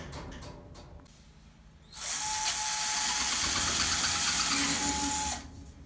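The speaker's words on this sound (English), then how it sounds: "Use a masonry bit, verify the length of your hole" A power drill fitted with a masonry bit bores anchor holes into a concrete slab for a garden shed, a loud steady whine holding for about three seconds after a short quiet stretch, with no talking.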